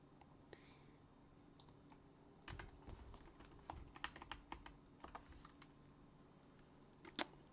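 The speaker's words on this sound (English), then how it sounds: "Could also use the keyboard, maybe easier." Computer keyboard typing while working on C++ code, a quiet close run of key clicks coming in short bursts, with a longer cluster in the middle and one sharp tap near the end.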